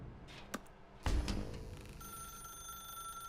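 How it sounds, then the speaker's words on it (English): A telephone ringing in the video game The Stanley Parable, a bright repeating electronic ring that starts after a soft knock and continues steadily and fairly close, with no one talking. "Now pick up the phone."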